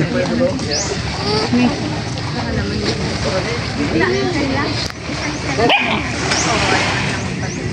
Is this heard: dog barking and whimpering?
yes